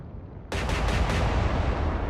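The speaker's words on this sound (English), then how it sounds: "There you go, the 15-inch guns." A 15-inch naval gun salvo in the naval combat game Atlantic Fleet erupts as a sudden loud boom after a quiet start, then rolls into a dense, rumbling decay.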